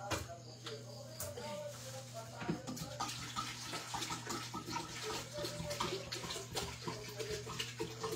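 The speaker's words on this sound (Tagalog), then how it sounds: "Wait lang, kuha muna ako ng tubig guys." Tap water runs steadily into a container or basin indoors, a continuous hissing splash with small clinks, without a break from start to end.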